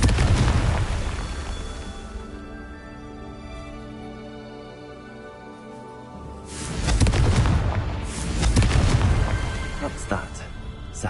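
A Confringo blasting spell detonates in Hogwarts Legacy with heavy booming explosions, loud at first, easing into a quieter lull, then swelling into two more rumbling blasts amid game noise.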